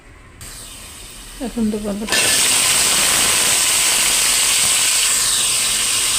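Whole spices such as bay leaf, cardamom, cloves and cinnamon drop into hot oil over browned onion for egg pulao, bursting into a loud, steady sizzle after a few faint clinks and a brief voice.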